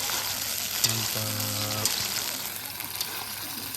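Potatoes stirred as they fry in a pan at an outdoor BBQ at Sky Lake Park in Alahan Panjang, steady loud sizzling throughout with a brief tonal whine partway through and a short spoken word.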